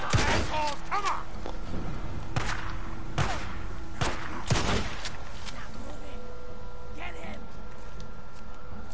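Scattered gunshots ring out in the zombie-survival video game Days Gone, sharp cracks spaced a second or so apart over a constant background of game ambience, with character voices shouting at times.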